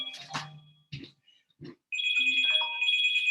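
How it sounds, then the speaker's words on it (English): A mobile phone rings nearby with a bright, sustained melodic tone that starts after a few soft thumps and rustles and continues steadily to the end. "My phone was ringing."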